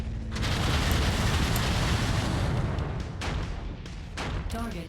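A sustained, rumbling blast roars up close inside a mech combat game, holding steady like a looping glitched explosion before breaking into short bursts near the end, with no talking.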